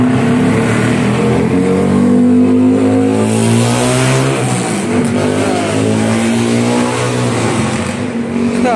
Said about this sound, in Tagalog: Sabi mo, malakas pa yung tunog sa andar.